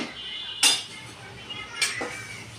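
A spoon clinks twice against a dish while sugar is added, two short bright metallic taps spaced about a second apart over a quiet kitchen background.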